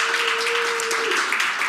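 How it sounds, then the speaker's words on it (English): Brief burst of audience applause after thanks to a sponsor at a mental health talk, a full, even wash of clapping lasting under two seconds. "So let's give them a big round of applause."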